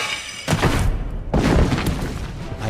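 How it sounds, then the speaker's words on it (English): Two explosions in the Puss in Boots video game: a deep booming blast lands, and a second, heavier one follows under a second later. Both are loud and close, with rumbling decay. "I had escaped the danger of the explosion."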